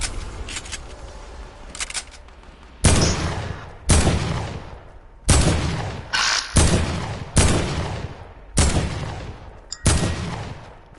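Gunfire from a weapon in the video game Fortnite, a string of about six loud, sharp shots spaced roughly a second apart, each trailing off in a quick decay, with no talk.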